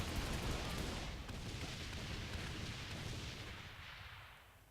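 A grenade launcher fires in the video game Saints Row The Third, a loud, dense booming blast that rumbles and slowly fades over several seconds, with no talking.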